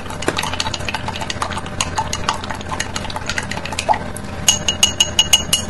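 About a gram of copper sulfate is stirred into a solution in a glass container, making a quick series of light clinks and taps from the stirrer against the glass, growing sharper and more rhythmic near the end.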